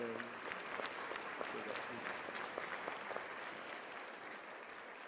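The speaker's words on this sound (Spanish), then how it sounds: "un aplauso muy especial para él" Audience applause for a panelist at a peace and youth conference session fills the room as steady, dense clapping at moderate distance, sustained throughout without any voices.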